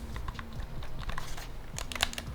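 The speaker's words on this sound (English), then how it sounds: "the buttons are so loud and clicky" Rapid, clattery clicking of Xbox Series X controller buttons, many quick presses in bursts, close by, ending with a louder cluster of clicks.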